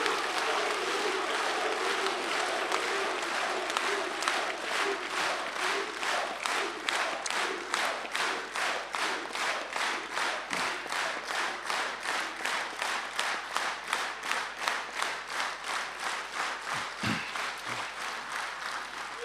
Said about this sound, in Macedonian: И еден аплауз.